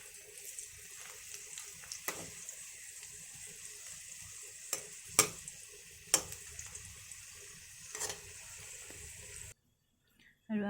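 Rice and potatoes simmer in a pot on the stove for biryani, a quiet, steady bubbling hiss with occasional soft knocks and clinks, close by, ending in a brief silence before a final short noise.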